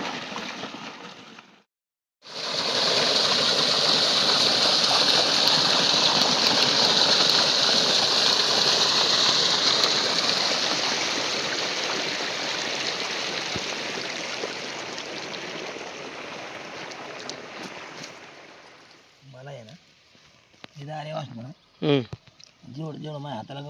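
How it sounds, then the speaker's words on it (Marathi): Steady rushing water pours out loudly for most of the stretch, then fades as a few voices talk briefly near the end. "इथं पाणी निघते"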